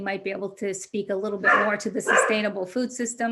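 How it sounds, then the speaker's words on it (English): A pet dog barks and yips in quick, excited bursts close to the microphone, while a person keeps talking over it throughout. "I'm sorry, that's my dog."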